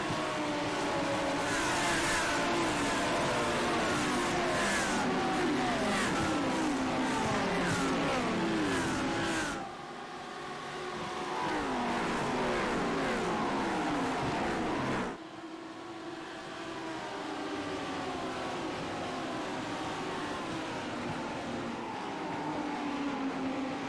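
GT3 race cars accelerating at the race start at Canadian Tire Motorsport Park in Canada, a loud dense roar of many engines revving and shifting up together, fading as the pack pulls away.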